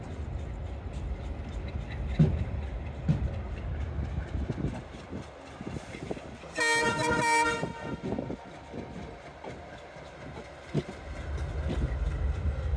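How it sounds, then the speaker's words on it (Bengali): A train passes near a station platform, heading toward the airport, with a loud horn toot of about a second partway through over steady rumbling rail noise and ambient chatter. "এই একটা ট্রেন চলে গেল"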